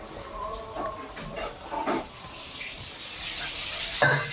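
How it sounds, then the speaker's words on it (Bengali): Fish frying in a pan in a home kitchen gives a soft, steady sizzle and hiss, faint and close, with a few brief clinks and a sharper burst near the end. "এই যে আমার মা এখন রান্না করছে, মাছ"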